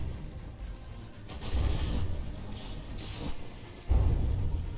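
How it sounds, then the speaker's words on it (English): Mortar volley from a battleship in the naval combat game From the Depths, heard as a run of heavy, booming impacts and blasts over a steady low rumble, with the loudest thud arriving near the end. "here comes another mortar volley"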